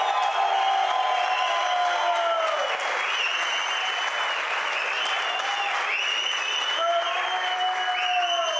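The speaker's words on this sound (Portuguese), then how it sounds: "Uma salva de palmas." A live audience gives a sustained round of applause, dense clapping that stays loud and steady throughout, mixed with crowd voices and some cheering.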